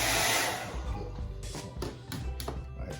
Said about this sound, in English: Okay, so let me turn my blow dryer on.